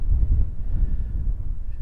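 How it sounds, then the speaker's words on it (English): Strong wind on the misty coast near Whitby, a steady low roar buffeting the microphone throughout, loud and close, with no voices. "It's a bit cloudy and misty today, and very, very windy, as you're probably aware."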